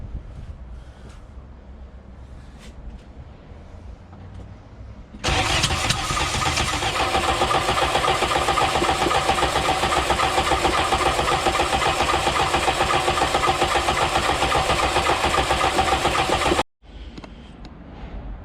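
A VW Golf Mk2 that sat for five years is cranked without fuel, giving a loud, steady, close churning roar for about eleven seconds that cuts off abruptly before quieter ambient sound returns, with no speech.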